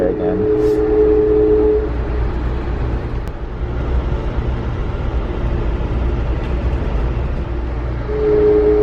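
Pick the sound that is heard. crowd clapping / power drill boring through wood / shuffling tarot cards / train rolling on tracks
train rolling on tracks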